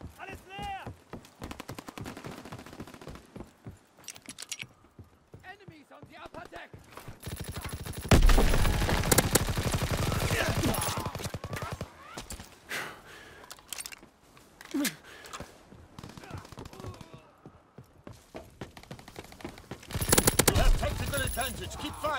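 Dense gunfire from a World War II video game battle rattles on through the scene, with machine-gun bursts and single shots layered over shouting voices and two louder, sustained stretches of heavy fire.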